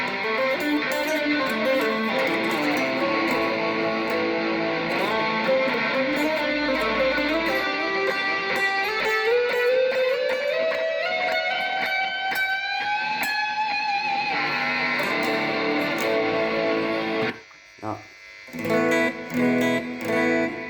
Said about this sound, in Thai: เสียงคอรัส